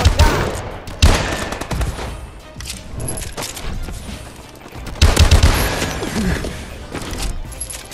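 Bursts of rapid gunfire from the shooter game Call of Duty: Advanced Warfare, with loud volleys near the start and again around the middle, between quieter stretches of scattered shots and game noise.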